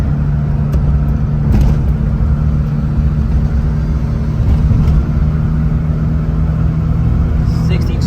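Mitsubishi Minica kei car accelerating hard on a straightaway, a steady loud engine drone and road rumble from inside the cabin with little change in pitch, and a voice speaking faintly over it.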